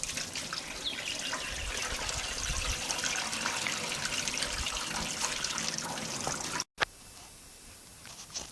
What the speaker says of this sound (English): I just pour the water straight out through the clothes so that some soap stays